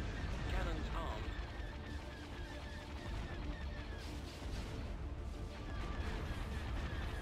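Cannons boom in a space battle in the video game Empire at War, a dense, continuous wash of heavy blasts and rumble that runs under a speaking voice.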